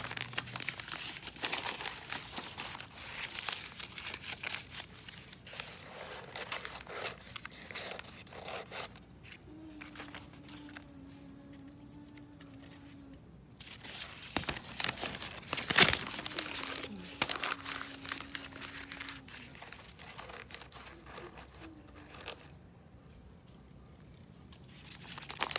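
Paper itinerary being crumpled by hand, producing intermittent crinkling and rustling bursts over about twenty-five seconds, fairly quiet and close, with a louder crunching burst partway through and no speech.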